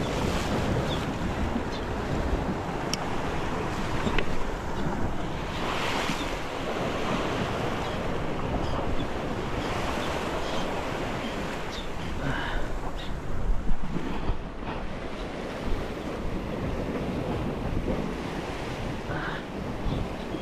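Rough sea waves surge and wash continuously around a fishing outing on open water, loud and close, with heavy wind buffeting the microphone throughout and no pauses in the roar.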